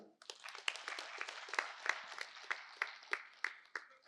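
A meditation audience claps for themselves, a quiet, fairly sparse patter of hand claps with sharper individual claps standing out at a steady rhythm over about four seconds.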